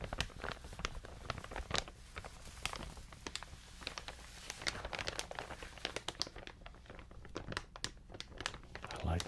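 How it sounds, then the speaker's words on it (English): A big, heavy crinkly material is crumpled and scrunched by hand in a long run of dense crackling bursts with low, full-bodied crinkles, close and fairly loud, with brief speech now and then. "I like those lower crinkling sounds a lot."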